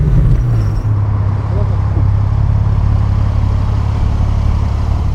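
A Porsche Evolution GT driving through a town centre in Nottingham, its engine a steady low rumble throughout, heard from inside the car with a brief voice at the start.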